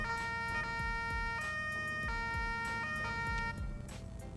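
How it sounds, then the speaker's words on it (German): Police car sirens in GTA IV with the LCPDFR mod wail in a steady electronic cycle, with repeated up-and-down sweeps and layered tones sounding loud and close, with no speech. "Dann haben wir neue Sirenen."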